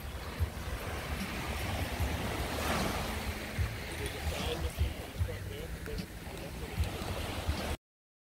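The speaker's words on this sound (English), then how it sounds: "This is a coral beach." Surf washes continuously onto a coral beach on Grand Cayman, a steady broadband wash of waves with some wind buffeting the microphone, running throughout at moderate level.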